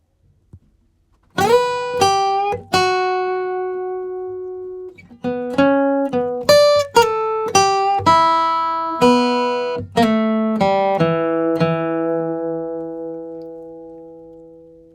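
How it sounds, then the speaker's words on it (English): Solo guitar plays a bluesy country line in E of picked notes and short runs, some ringing out, bright and close with no accompaniment. "let's move on to the last line of this guitar solo"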